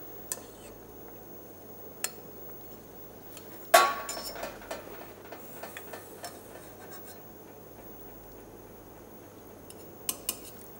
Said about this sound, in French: Je vais débarrasser toute la garniture aromatique.